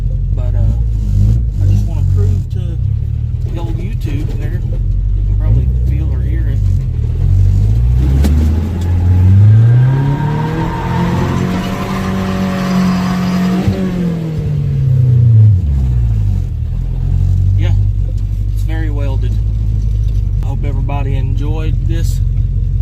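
A Nissan car with a welded differential drives past and revs, the engine rising to a loud peak and falling away over a constant low rumble.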